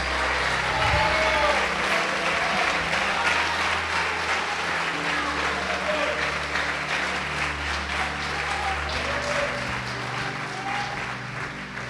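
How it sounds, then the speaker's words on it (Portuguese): Congregation clapping during a church service, sustained crowd applause lasting the whole stretch, with a low musical tone and faint voices underneath, slowly easing toward the end. "Pode aplaudir o Senhor Jesus."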